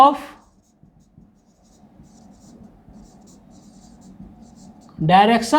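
Marker or chalk scratching across a board during a physics lecture on Coulomb's law, soft irregular strokes for several seconds, bracketed by a man lecturing before and after.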